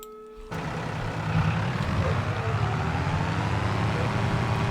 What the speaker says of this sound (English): I'm just going to bring the tractor back from the store.